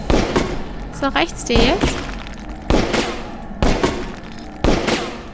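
Gunfire in the video game Overclocked: several punchy shots at irregular intervals, with someone speaking between and over them.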